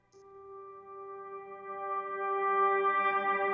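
A single sustained synth note played dry with no reverb, a clean bright tone with strong harmonics, slightly horn-like, swelling gradually louder and holding steady alone.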